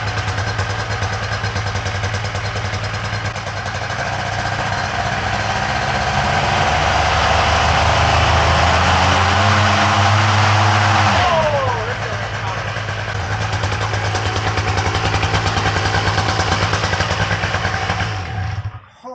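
Moster 185 paramotor engine running close by, a loud continuous buzzing drone that climbs in pitch as it revs, drops sharply midway, then settles back into a steady high idle before cutting out at the end.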